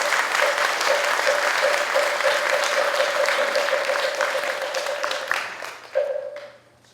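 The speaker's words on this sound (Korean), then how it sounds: "향적 큰 스님께 다시 한번 감사의 큰 박수 부탁드립니다" Audience applause at a Buddhist temple dharma talk, a dense, steady wash of many hands clapping that holds for several seconds before thinning and fading out, with a brief voice near the end.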